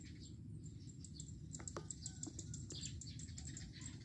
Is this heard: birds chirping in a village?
yes